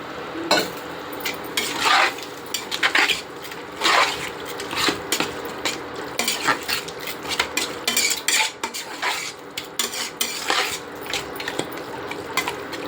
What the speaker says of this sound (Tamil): தயிர் ஊற்றி ஒரு கிளை கழிச்சிடலாம்